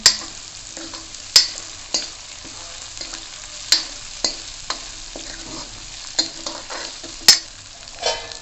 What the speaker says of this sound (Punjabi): ਲਾਲ ਮਿਰਚ ਇਹਦੇ ਵਿੱਚ ਸਿੱਟ ਦਿੰਦੇ ਆ ਇਹ ਵੀ ਭੁੰਨ ਲੈਣੇ